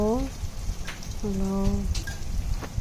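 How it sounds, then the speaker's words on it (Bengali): Onions fry in a pan for prawn do peyaja, a crackling sizzle running steadily beneath a person talking in short bursts. "প্রথমে পেঁয়াজটা একটু ভেজে নিচ্ছি বাদামি করে"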